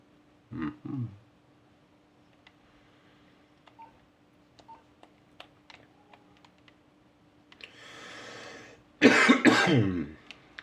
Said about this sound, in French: Oui je tousse un peu.